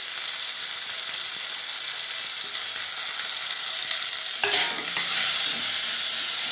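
Ginger, garlic and mint sauté in a pan with a loud, steady sizzle that swells as they are stirred, close up and without talk.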